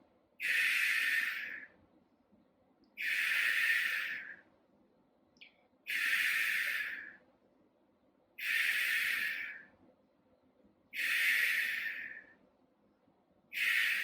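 Slow, deep breaths during a Pilates exercise, five long airy inhales and exhales at an even rhythm, close and fairly soft, with no talk.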